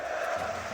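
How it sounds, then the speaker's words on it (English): Arena crowd chanting in unison during a Counter-Strike esports semifinal at the Paris Major, a dense sustained roar of many voices filling the hall. "Crowd chanting for chaos."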